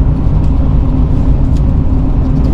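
Car driving on a rural road near Lake Wister, Oklahoma, heard from inside the cabin as a steady, loud engine and road rumble with tire whir, continuous and without speech.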